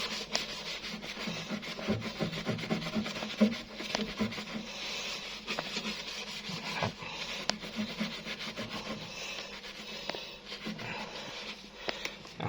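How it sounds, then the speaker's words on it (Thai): Steady scrubbing of limescale with a Scotch-Brite scouring pad, a continuous rough rasping rub with uneven back-and-forth strokes, close and moderately loud, with no talk. "งั้นเราก็ใช้ สกอตไบนะครับขัดครับ ขัดบริเวณนี้ดู"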